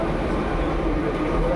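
A train rumbles at Howrah railway station in Kolkata, a low, continuous rolling roar with faint tonal hums, steady and moderately near throughout.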